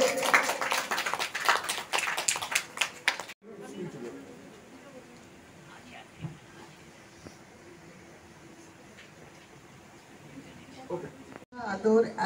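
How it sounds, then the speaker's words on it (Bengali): Audience clapping for children with different abilities at an annual cultural programme of a mother and child welfare institute in Kolkata, a burst of brisk applause in the first few seconds, then fading to quiet room noise. "একটু জোরে হাততালি সবার কাছ থেকে"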